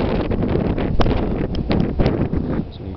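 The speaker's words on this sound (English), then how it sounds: "It's windy up here" Strong wind blowing on a high spot above a rough sea with waves coming in, a loud, continuous gusty roar buffeting the microphone for the whole stretch, with no voices.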